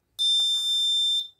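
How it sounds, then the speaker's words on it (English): An ESP32-CAM smart shopping cart emits a single steady, piercing electronic beep, about one second long, as it scans a QR code. It sounds alone over near silence. "Whenever it scans, red LED and small beep sound"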